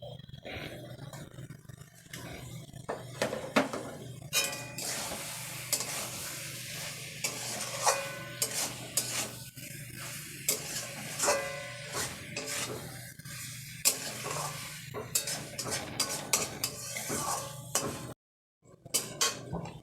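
Dried bombil fish fries with eggplant in a pan, stirred and scraped with a utensil in repeated rasping strokes over a steady sizzle, close and fairly loud, breaking off briefly near the end.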